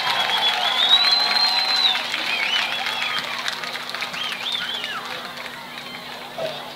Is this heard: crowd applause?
yes